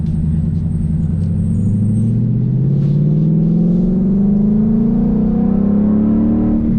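A supercharged Mustang engine revs up steadily under heavy throttle, its deep droning pitch climbing as it accelerates, loud and close with no talking.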